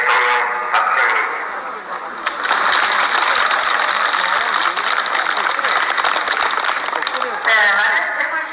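Street crowd applauding at a political party speech on Dongseongro in Daegu, South Korea; dense, sustained clapping fills the whole stretch at steady loudness, with a speaking voice heard over it at the start and end.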